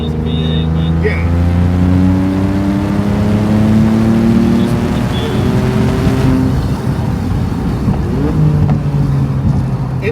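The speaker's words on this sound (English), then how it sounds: "The six-cylinder doesn't sound bad, especially on the downshifts." A Maserati MC20 V6 engine revs loudly and steadily, its tone sliding up and down through the gears with a distinct downshift blip partway through, heard close up from inside the car.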